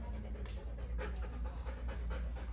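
A dog pants steadily and close by, soft rhythmic breaths repeating throughout over a low steady hum indoors.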